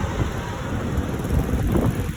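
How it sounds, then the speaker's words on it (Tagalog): Gusty wind blows steadily across an outdoor parking lot by a shopping mall, a low broadband rumble buffeting the microphone throughout, with faint traffic noise in the background and no talking. "Medyo mahangin yung weather ngayon."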